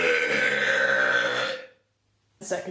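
A person lets out a long, loud, deep belch lasting about a second and a half, followed by silence and then a brief vocal sound.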